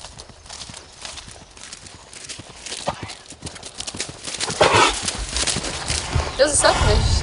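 Horse hooves clip-clop at a walk on a Latvian horse farm as a rider sits in the saddle, a steady near rhythm mixed with voices talking and a brief whinny-like burst.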